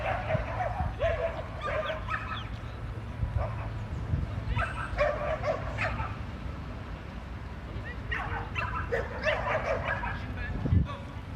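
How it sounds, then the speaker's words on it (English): Dogs at a dog training session in France, with repeated yips and barks in short clusters throughout, fairly distant and mixed with outdoor background noise and people talking. "There's a dog."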